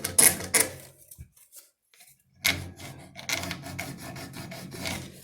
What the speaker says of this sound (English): Doesn't help that I'm turning fatwood.